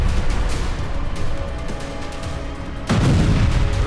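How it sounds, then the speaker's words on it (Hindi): An explosion strikes Russian military trucks loaded with weapons in St. Petersburg, a sudden loud boom bursting out near the end after several seconds of rumbling, crackling background noise. "इसमें रूस की सेना के लिए हथियार लोड थे, तभी यहां धमाका हो गया।"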